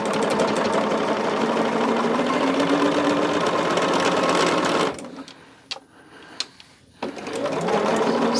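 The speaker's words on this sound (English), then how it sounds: "we're going to start our process by sewing a triangle onto opposite sides of our big fabric" Sewing machine running steadily while stitching fabric triangles onto a large square for a quilt block, a loud continuous whir for about five seconds that stops, leaves a few faint clicks, then starts up again.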